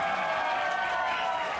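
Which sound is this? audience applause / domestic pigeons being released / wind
audience applause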